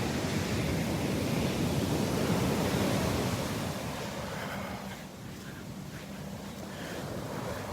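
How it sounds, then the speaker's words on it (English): Ocean waves break close to shore on a beach in Naples, Florida, as a continuous, fairly near wash of surf and foam, easing slightly midway, with wind buffeting the microphone. "She said the waves are plenty big enough to catch a ride, but they're just breaking too close to shore"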